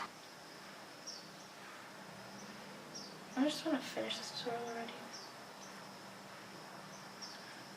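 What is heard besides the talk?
birds chirping outside the window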